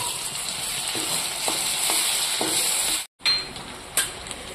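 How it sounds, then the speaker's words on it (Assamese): Ginger and garlic paste sizzling with onions in a pan for a village-style South Indian prawn dish, a steady loud fry with a few soft utensil clinks and stirring scrapes, briefly cut by a gap. "এতিয়া দি দিব লাগিব আদা আৰু নহৰু"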